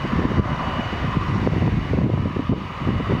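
A TAP Air Portugal Airbus A321-251 airliner takes off at Lisbon Airport, heard as a steady, loud, broadband jet roar that holds constant for the whole stretch.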